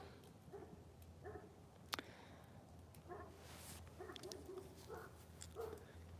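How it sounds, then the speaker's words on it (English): A small dog barks repeatedly at night outdoors in the woods, faint and distant, with short yaps spaced irregularly over a low steady background hum. "Got a little dog barking action."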